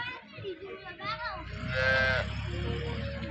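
A local milk-giving dairy cow in a Gujarat village lets out a loud, drawn-out moo close by, with people talking faintly in the background.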